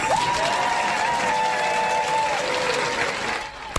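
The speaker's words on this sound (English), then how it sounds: "Could you all give yourselves a round of applause?" An audience applauds together in a steady wash of clapping with a little crowd noise, while a sustained tonal hum runs underneath and fades out near the end.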